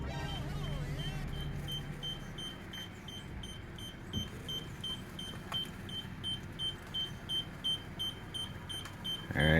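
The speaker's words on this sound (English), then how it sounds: "I can hear the beeping now." A garage door sensor beeps repeatedly at a steady rhythm over the low hum of a car reversing into a garage, and the pace picks up toward the end.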